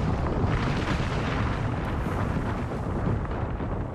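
Artillery strike explosions in Apex Legends rumble continuously, dense overlapping booms forming a heavy roar throughout without clear individual hits.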